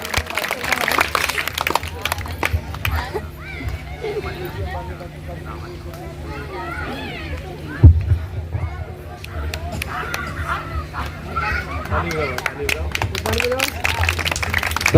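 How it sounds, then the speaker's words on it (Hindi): Audience clapping at a Buddhist religious talk gathering, a sustained, loud patter of many hands filling the scene with crowd noise and scattered voices. "एक बार जोरदार तालियां"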